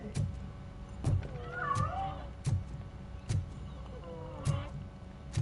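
A cat in the video game RoboCop meows a few times, drawn-out and wavering, amid a low background hum and occasional soft thumps.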